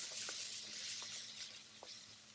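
Pork stir-frying in a pan with a little oil, a steady soft sizzle with a few light scrapes of stirring, moderately close and alone without talk.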